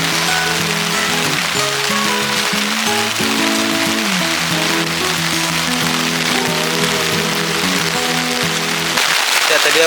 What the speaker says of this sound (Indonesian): Ini lagi hujan dan cukup mengkhawatirkan sih